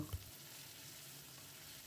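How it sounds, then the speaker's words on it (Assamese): Sliced onion, chilli and mashed potato fry in hot oil over a high flame, a soft, steady sizzling hiss with a brief thump of stirring at the start, no talk. "এইখিনি মই লৰাই লৰাই হাই ফ্লেমতে ভাজি থাকিলোঁ"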